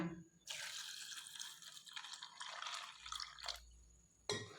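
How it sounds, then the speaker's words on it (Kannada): Water pours steadily into a bowl of pasta for several seconds, with a brief pause and a final splash of pouring at the end. "ಪಾಸ್ತಾ ಹಾಕಿ ನೀರು ಹಾಕಿಬಿಡೋಣ"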